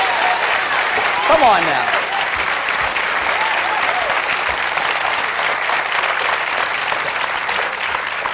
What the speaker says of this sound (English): That was a cheap way to get another round of applause.